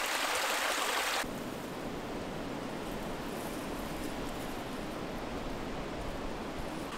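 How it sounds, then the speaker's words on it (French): Spring water flows at the foot of a promontory toward the Isle river near Sourzac in the Périgord, a steady close rushing murmur that follows a brief louder burst. "L'eau de la source coule au pied du promontoire, vers la rivière l'Isle,"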